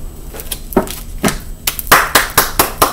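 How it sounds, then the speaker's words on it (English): A handful of separate, fairly sharp hand claps sound close by in an uneven rhythm, getting quicker toward the end, with a quiet background between them. "A round of applause for Aquarius."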